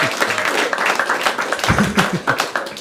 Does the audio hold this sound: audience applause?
yes